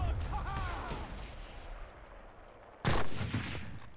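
Gunfire in the World War II shooter Enlisted, with a quiet battlefield bed under faint distant shots, then a single loud close rifle crack followed by a ringing tail.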